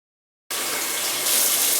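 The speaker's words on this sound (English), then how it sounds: "So first step, always wash your hands." Tap water starts abruptly after a brief silence and then runs steadily as a close hiss, growing slightly louder partway through, while hands are washed before cleaning a navel piercing.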